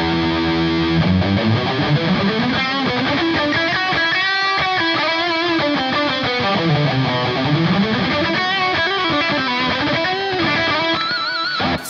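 Distorted electric guitar lead through an Anxiety Overdrive pedal on a HeadRush, a steady, close, loud melodic line with sweeping bends and sustained notes, playing alone without speech.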